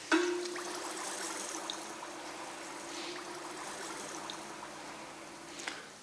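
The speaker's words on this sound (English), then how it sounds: "That nice bubbling noise is a very good sign." Hot steel knife blade quenched in oil for hardening, giving a steady low bubbling and gurgling hiss that runs continuously at close range, with brief crackles near the start and end.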